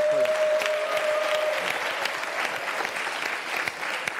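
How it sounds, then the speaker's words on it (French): Steady, dense audience applause fills a French television show set, loud and continuous throughout, with a faint tone fading early on and no voices over it. "On peut les applaudir."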